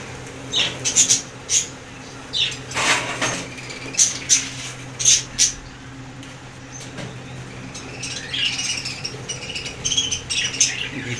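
A home colony of budgerigars chirps and squawks close by in sharp, repeated bursts, thickening into busier overlapping chatter toward the end.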